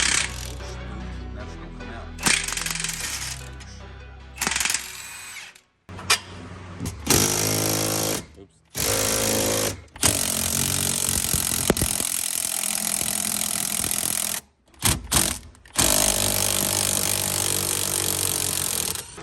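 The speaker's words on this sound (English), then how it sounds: "put the big impact gun on it" A large impact gun loosens a coilover strut bolt on a Honda Fit, firing in several loud, hammering bursts separated by short silences, close up and with no talking.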